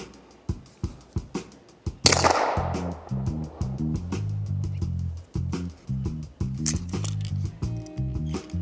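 A PSA Dagger pistol fired with a suppressor gives a string of muffled pops, first several spaced shots, then a louder burst of rapid shots with clacking action noise.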